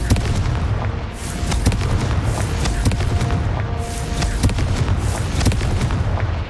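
A Confringo blasting spell explodes in a video game with loud, close, booming blasts and sharp cracking impacts, repeating in a rapid irregular rhythm over a dense rumbling bed.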